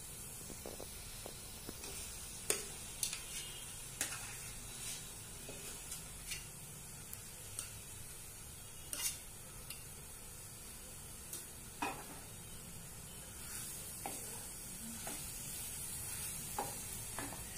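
Potatoes frying for vada pav in a pan, a faint steady sizzle and hiss with scattered soft pops and clicks throughout, quiet and close, with no voices.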